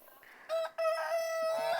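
A rooster crows close by, a loud drawn-out call with a brief break near the start, heard alone.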